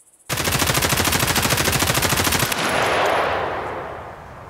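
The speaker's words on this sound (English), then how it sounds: "So the M4 is decently controllable in full auto" An M4 rifle fires full-auto in Escape From Tarkov as a loud, rapid, steady burst of evenly spaced shots lasting about two seconds. A ringing echo tail trails off afterward, with no talking.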